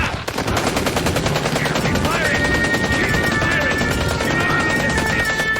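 Soldiers open fire in a dramatic scene, a dense, continuous burst of rapid machine-gun fire lasting several seconds, loud and close with ringing metallic tones over the volley.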